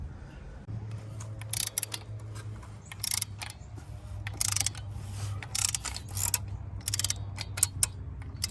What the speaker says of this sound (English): we'll get the torque wrench on it and torque it in when it's ready to tighten up